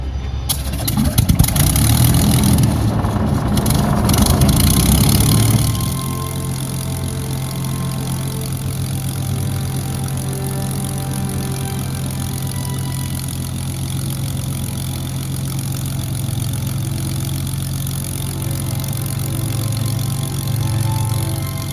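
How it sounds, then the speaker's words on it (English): A Spitfire's Merlin engine cranks and catches with a loud rough burst, then settles into a steady, deep idling drone that continues for the rest of the clip with no talk. "And then that Merlin engine fired up."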